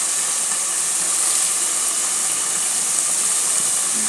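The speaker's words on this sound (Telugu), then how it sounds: "బిర్యానీ మసాలాతో పాటు ఈ ఎర్రగడ్డలు, పచ్చిమిర్చి, అల్లం వెల్లుల్లి పేస్ట్ ఇదంతా చాలా బాగా వేగాలన్నమాట." Onions, green chillies and ginger-garlic paste sizzle with biryani masala in a pot for dum biryani, a steady close hiss of frying with no pauses and no talk.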